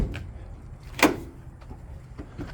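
A single short clunk from the rear doors of a campervan with a door-mounted mini split air conditioner bracket stands out once over quiet background rustle.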